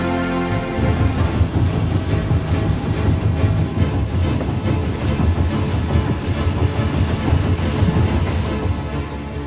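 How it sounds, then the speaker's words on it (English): Train rolling across Germany on rails, a continuous close rumble with rhythmic clatter throughout. "A man is spending days in a train."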